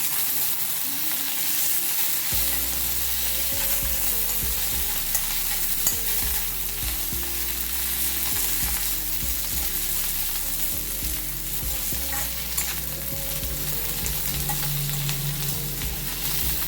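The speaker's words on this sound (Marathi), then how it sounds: "आता याच्यामध्ये आपल्याला कोथिंबीर घालायची आहे ती सुद्धा एक दोन मिनिटे परतवून घ्यायची आहे" Fresh coriander sautéed in a pan with ground masala ingredients, giving a steady sizzle with repeated scraping and stirring strokes throughout, no voices.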